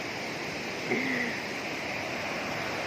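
A constant broadband rush of river water flowing near a bridge, steady and fairly close, with a brief faint tonal squeak near the start.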